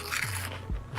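Steak and wasabi flavored turtle chips crunch in a couple of crisp, close bites within a single second.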